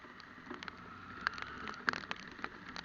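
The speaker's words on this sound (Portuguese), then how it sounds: "Quem quer ficar na chuva um tempo desse?" Rain falls during a wet ride along a potholed road, a steady soft hiss broken by scattered sharp drop taps and small knocks, moderately quiet with no voices.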